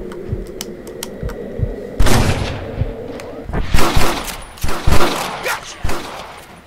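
Gunfire during a Red Dead Redemption shootout: a string of sharp shots and clattering impacts, some near and loud, others lighter, popping irregularly through the scene.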